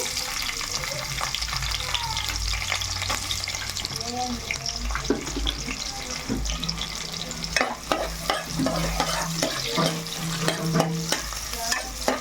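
Sliced onions frying in a pan for vegetable pulao, a loud, continuous sizzle with frequent scraping stirs and a low hum underneath, no talking.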